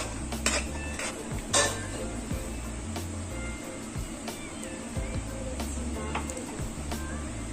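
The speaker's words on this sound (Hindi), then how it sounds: "बस आपको हल्के हाथों से चम्मच चलाते रहना है।" A spoon scrapes and clinks steadily against a pan while a paneer dish is gently stirred, with repeated soft metallic taps over a low background hum and faint sizzle.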